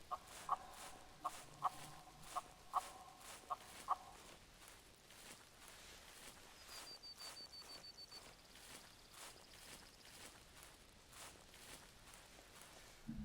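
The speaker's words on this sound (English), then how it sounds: "I guess I'll try another locator call just in case." A bird locator call in theHunter: Classic, heard as a run of about eight sharp, evenly spaced chirps over the first four seconds, followed by quiet outdoor ambience with faint rustling.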